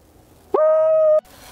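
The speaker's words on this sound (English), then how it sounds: "We have two great horn owls." A great horned owl gives a single clear, steady hoot outdoors at night on a cold evening, loud and close, with quiet background before and after.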